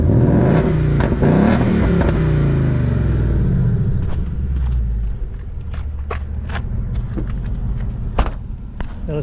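A 2019 Ford Mustang Bullitt engine revs hard from idle, its deep rumble rising and falling, then settling into a steady idle, with light clicks and taps near the car.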